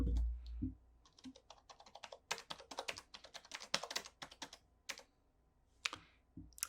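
Keys on a vintage keyboard are typed slowly and gently with one finger, giving close, crisp clicks in irregular bursts with short pauses between them.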